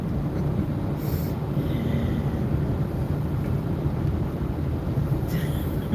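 A car rumbles along a road on a road trip, a steady low engine and road drone heard from inside the cabin, constant and fairly loud with faint wind noise.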